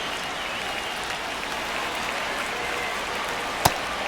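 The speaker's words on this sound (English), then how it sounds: "Feel this crowd waking up a bit here as the guys are starting to make some noise with their bats" Steady crowd murmur and cheering fills a baseball stadium in the video game MLB The Show 26, a continuous wash of noise with one sharp crack-like hit near the end.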